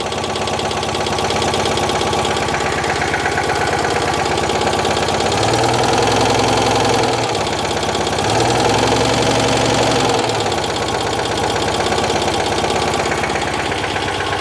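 Upgraded Citroen 2CV engine running steadily at a loud, close idle with a rhythmic mechanical beat and a couple of brief revs in the middle, no talk.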